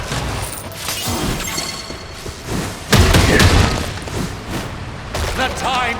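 A heavy, booming Javelin Bullet attack lands in the side-scrolling brawler Absolum, a big thud with crashing impact over busy combat noise and game music.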